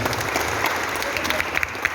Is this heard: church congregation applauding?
yes